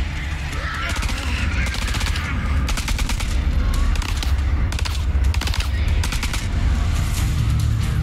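Rapid bursts of automatic gunfire crackle repeatedly over a low rumbling background, sharp and dense like combat in the video game House of Ashes, with a voice occasionally speaking.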